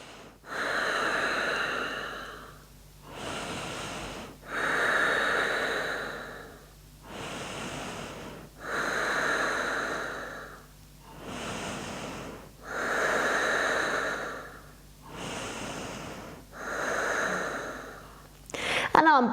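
Deep, slow yoga breaths during a relaxing session, about eight long audible inhales and exhales in a steady rhythm, close and fairly loud, with no talking.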